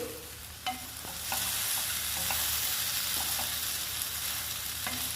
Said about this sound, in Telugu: చింతపండు, ఈ రెండు కూడా 1 మినిట్ ఫ్రై చేసుకోవాలి.